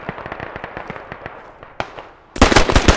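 Sharp explosive blast set off in the tactical shooter Squad during an urban battle in Fallujah, heard as a sudden loud burst near the end after a run of rapid crackling shots and a single sharp report.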